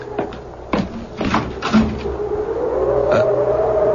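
A door opening in a 1975 CBS Radio Mystery Theater drama, heard as a few knocking and creaking thumps in the first two seconds, followed by a steady low hum of room tone.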